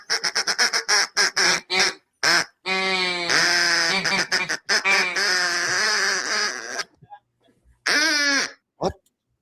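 A voice imitating a duck, calling out a quick run of short nasal quacks followed by longer drawn-out quacking honks, with a few more bursts after a pause.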